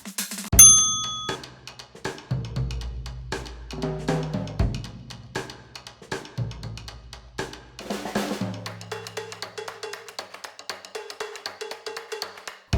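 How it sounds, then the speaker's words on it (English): Bell dings marking the end of a low-impact walking cardio workout interval, several bright ringing strikes with long decaying tones, followed by rhythmic clanging chimes, loud and close with no talking. "Let's walk it out at the bell."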